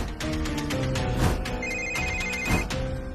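A mobile phone rings from under a sofa, playing a bright melodic ringtone of repeated tonal phrases that sounds loud and continuous throughout, with no talking over it.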